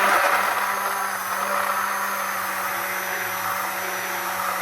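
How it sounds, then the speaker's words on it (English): A small Proctor Silex one-cup blender whirs continuously while mixing butter coffee with egg, a loud, close, steady motor hum with a high whine, heard alone without talk. "I use this little, what is it, Proctor Silex, just like a little in 1 cup blender."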